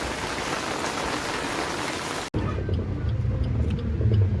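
Heavy rain and road rumble on a flooded national highway near Lakhni, Vidarbha, as trucks pass and throw floodwater; a steady wash of noise, then a sharp cut to closer, louder low splashing and engine rumble.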